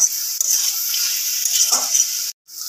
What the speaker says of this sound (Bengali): এবার এটা দিয়ে ভালোভাবে মিক্স করা হচ্ছে লাল শাকটাকে।